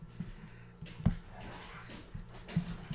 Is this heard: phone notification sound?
no